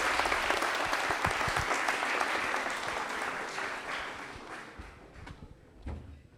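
An audience applauds a quiz contestant at a Republic Day quiz show, a dense burst of clapping that starts strong and slowly thins out toward the end.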